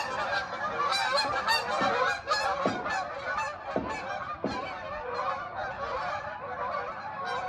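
A flock of geese honks repeatedly overhead, many overlapping calls in quick irregular bursts, fairly loud and close, with no talking.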